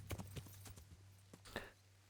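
A fast horse's hooves clip-clop in Kingdom Come: Deliverance, a quiet series of sharp, irregular hoof strikes heard alone at moderate distance.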